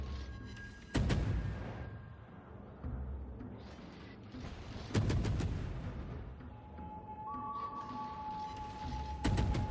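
Enemy warship's naval guns firing in a video game, a few heavy booming salvos spaced several seconds apart over a steady rumbling battle backdrop.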